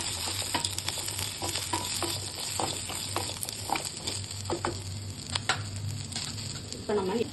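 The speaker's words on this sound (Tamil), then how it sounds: "பச்சை மிளகாய் சேர்த்துக்கலாம்." Green chilies sauté with ginger and garlic in a pan, a steady close crackling sizzle broken by repeated stirring scrapes and taps.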